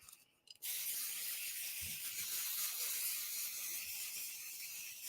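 A sharp click, then a steady hissing spray from an aerosol can of spray adhesive that continues for several seconds, close by, with a couple of faint low taps.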